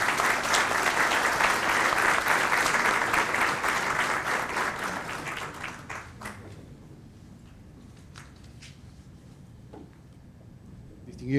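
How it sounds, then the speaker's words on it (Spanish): An academic audience applauds a university rector at an institute of government event, a loud sustained round of clapping that thins out and fades midway, leaving scattered claps and quiet room tone. "Recibamos con un fuerte aplauso a nuestro rector"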